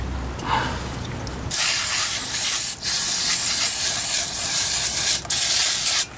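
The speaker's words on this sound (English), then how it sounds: "Then I'm going to give the caliper a bit of a wash off." A brake caliper from a 2000 Toyota Avalon front brake service is blasted with a loud close pressurised spray in long hissing bursts with brief pauses between, after a few quiet seconds of workshop sound.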